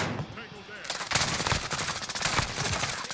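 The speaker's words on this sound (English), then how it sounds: "I hear him shooting." Rapid automatic gunfire bursts in Call of Duty: Modern Warfare, starting after a brief lull and continuing in loud, dense rattling volleys, with a voice talking faintly underneath.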